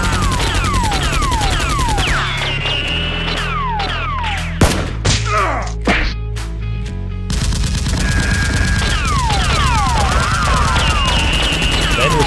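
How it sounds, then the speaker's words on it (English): Busy rapid-fire gunshot effects from a Nerf gun fight rattle on almost without pause, dropping briefly into a few separate loud cracks in the middle before the dense volleys return. "SEAL X reaches a bush, raises his gun, aims at Ben, and shoots."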